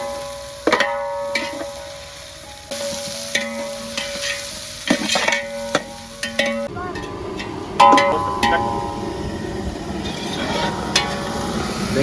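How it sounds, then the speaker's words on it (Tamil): Onions sautéed in a pan until brown for village-style country chicken biryani: a steady sizzle with repeated scraping stirs and clanks of a spoon against the pan, close and fairly loud. "வெங்காயம் நல்லா ப்ரௌனாக வர வரைக்கும் வதக்கணும்."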